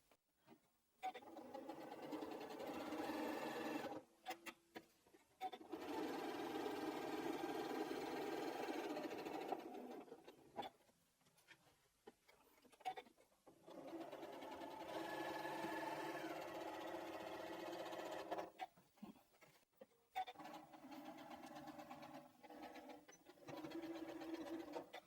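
Sewing machine stitching a quilted strippy bag, close and steady, running in several long bursts separated by short pauses where the machine stops and the fabric is pivoted.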